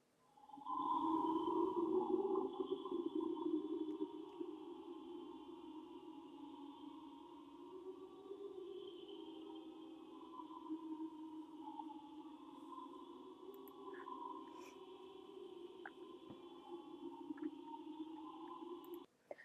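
Early electronic music, sustained layered overtone bands that waver like distant voices, beginning loud and settling into a steady, faint drone with small flickers near the end.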